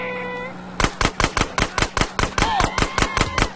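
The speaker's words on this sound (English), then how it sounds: "they're shooting at him!" Rapid automatic gunfire from the video game GTA San Andreas, a steady burst of about a dozen loud, evenly spaced shots over a low background hum, with no talking.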